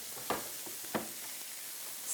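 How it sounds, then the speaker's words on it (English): Food sizzles in a pan while a butternut bean soup is cooked, a faint steady hiss broken by two brief louder crackles early on. "it's sizzling"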